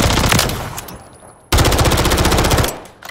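Rapid automatic gunfire in the video game Call of Duty Modern Warfare III, loud and close, with a burst that fades, a short break, then a second sustained burst of fast, evenly spaced shots.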